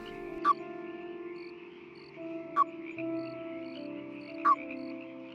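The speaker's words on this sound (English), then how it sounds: "And now, with the help of Hilda, our common toad has managed to reach its pond" Three short, distinct croaks from a common toad at its pond, evenly spaced about two seconds apart, stand out over a quiet backdrop of faint steady insect-like trilling.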